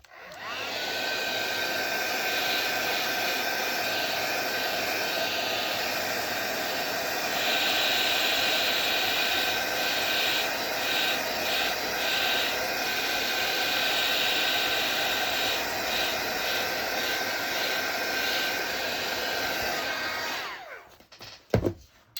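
A heat tool blows hot air over a freshly stamped card so it dries before embossing powder goes on, a steady, loud, whining roar lasting about twenty seconds with slight wavering, then clicking off into a few handling knocks.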